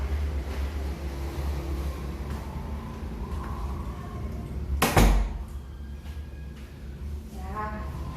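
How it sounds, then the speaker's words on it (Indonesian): A door in a clinic consultation room shuts with a single sharp thud, heard over a low steady background hum. "saya tutup pintu dulu ya"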